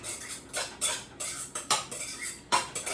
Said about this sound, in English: I'm just gonna stir this up